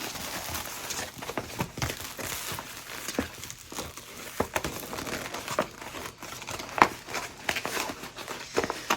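Crinkling crumples of a flat rate shipping envelope being folded over by hand, close and fairly quiet, with irregular papery rustles and a few sharper crackles throughout.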